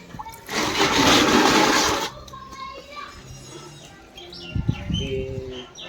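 Water gushing from a bucket onto garden plants in a loud burst of about a second and a half, then quieter outdoor sounds with birds chirping and brief voices.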